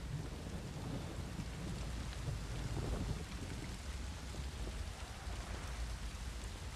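Steady rainfall in the fantasy game The Witcher 3: Wild Hunt, a constant dense hiss of falling rain with a low rumbling undertone, unbroken and evenly loud throughout.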